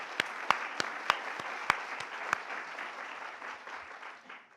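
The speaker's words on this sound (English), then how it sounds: "Round of applause for you." Audience applause at a design symposium session, a steady wash of many hands clapping with a few sharp louder claps early on, then gradually thinning out over several seconds.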